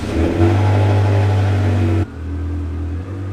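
The engine of a yellow 2000 Ferrari 360 with 40,000 miles runs at a steady, loud droning idle as the car pulls out of a garage, with a brief rise in revs early on and an abrupt drop in level partway through.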